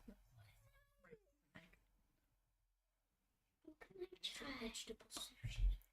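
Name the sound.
cat meowing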